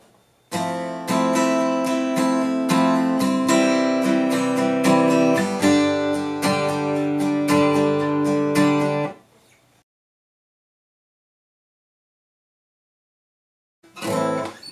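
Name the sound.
guitar strumming chord progression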